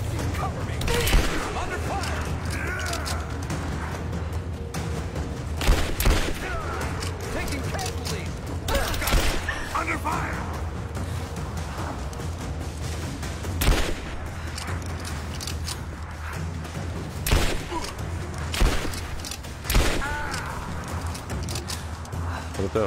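Call of Duty Warzone gunfire crackles in scattered short bursts over a low, busy game background, with a few louder volleys standing out.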